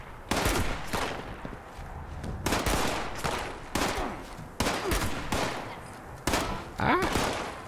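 Repeated bursts of gunfire in Fallout 76, sharp volleys returning roughly every second or so, loud and close, with no talking over them.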